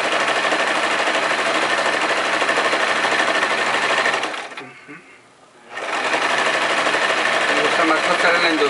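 A sewing machine runs fast and loud, stitching a long stretch lycra dress, with a steady whirring buzz that stops for about a second midway and then resumes at full pace.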